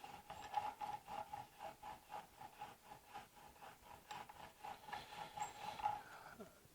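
A blade is rubbed back and forth on a 1200 grit diamond sharpening stone, a soft rhythmic scraping of steady, evenly spaced strokes, quiet and close.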